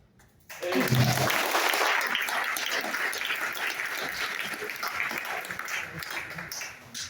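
An audience at a charity center event bursts into applause after a brief pause, sustained steady clapping that fades slightly near the end, with some voices mixed in.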